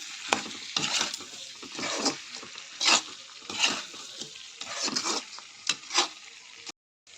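Repeated scraping and stirring of meat in a pan with a spatula, bursts of sizzling between strokes in an irregular rhythm, close and clear with no voices, ending in a brief silence.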